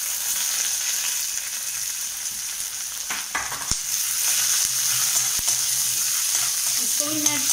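Onion, cucumber and green chilli sizzle steadily in hot oil with a five-spice tempering. A few sharp spoon knocks and stirring scrapes break through midway.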